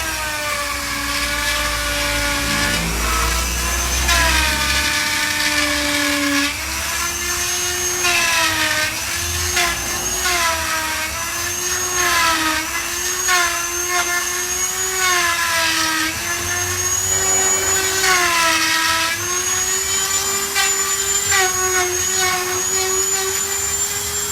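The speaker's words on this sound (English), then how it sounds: "I'm just going to reduce the diameter of it a little bit. And I've just got like a router piece on my Dremel" A Dremel rotary tool fitted with a router bit trims the edge of a PVC disc, giving a loud, high continuous whine whose pitch wavers and dips as the bit bites into the plastic, with no talking.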